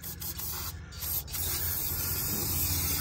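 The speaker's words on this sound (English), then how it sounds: "Got my beautiful brake cleaner here." Brake cleaner sprays from an aerosol can onto a semi truck differential, a steady close hiss broken by a couple of brief pauses at the start, then continuous.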